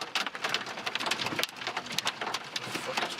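Large hailstones pound a storm-chasing vehicle in a northwest Kansas hailstorm, a dense, loud clatter of hard impacts drumming continuously on the roof and body.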